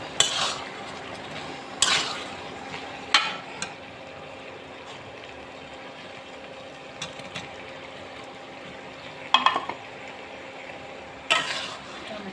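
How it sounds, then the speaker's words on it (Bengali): Spoon scraping and clinking against a pan while stirring a radish and eggplant curry with egg, a few sharp knocks spread over a quiet low sizzle. "কষানো হয়ে গেছে, নাড়াচাড়া করে এর উপরে এখন টমেটো দিয়ে দিব"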